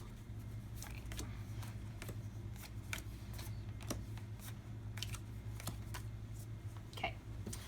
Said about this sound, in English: shuffle that hero and up to 2 of Yzma's Fate decks together